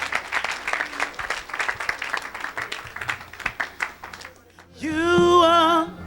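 A church congregation bursts into warm, sustained applause that fills the room for several seconds. A sung or sustained tonal passage then takes over.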